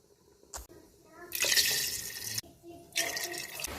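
Water is poured into rice for chicken biryani in two loud, close, splashing bursts, each a few seconds long, after a short knock and a brief trickle at the start.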